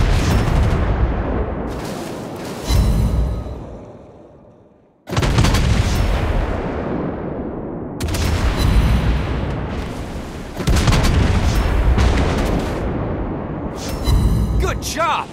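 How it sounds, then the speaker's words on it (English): Heavy anti-aircraft gunfire booms in a naval battle in World of Warships Blitz with a Tier 6 Pan-American cruiser, loud rumbling bursts repeating in several long volleys, while a voice speaks over the action. "Incoming! Anti-aircraft gun on full alert."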